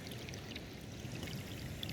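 Water seeping and trickling out of the ground at a winter seep, a steady close gurgling flow that runs without pause and is heard on its own.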